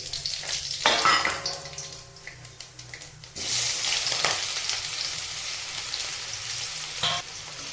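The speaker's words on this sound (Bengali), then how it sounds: "এখন আমি ফোড়নে দিয়ে দিচ্ছি গোটা গরম মশলা আর জিরে" Whole garam masala (cinnamon, cloves, cardamom) and cumin seeds sizzle and crackle in hot mustard oil, a steady loud frying hiss with a burst of spluttering partway through, close up with no talking.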